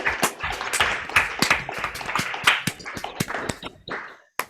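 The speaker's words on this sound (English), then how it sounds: "We need to give a big round of applause for that performance." A round of applause follows a musical performance at a musician network meeting, with dense clapping from a small group that stays steady for a few seconds before thinning out and stopping.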